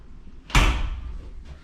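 A glass shower door in an apartment bathroom slides and thuds into place, one sharp knock followed by a short rattling tail and a faint second tap, no talk.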